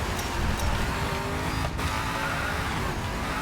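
A Chiron race car in the Racing Master game roars continuously as it surges out of a corner. The engine note is loud and dense, with a brief tire hiss in the middle.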